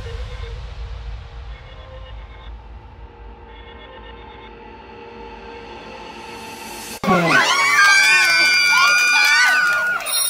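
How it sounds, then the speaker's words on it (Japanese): Women cheer with loud, high-pitched shrieks in a Kabukicho host club. The cheering breaks out suddenly about two-thirds of the way through, after a low, murmuring room ambience. "女性たちの黄色い歓声が店内に響く。"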